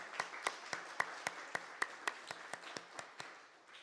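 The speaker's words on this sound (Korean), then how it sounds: "우리 이분들에게 한번 주 안에서 만난 것을 감사합니다 하고서 박수 한번 칩시다" A church congregation claps in a steady, even rhythm, with about a dozen crisp, evenly spaced claps that fade slightly toward the end.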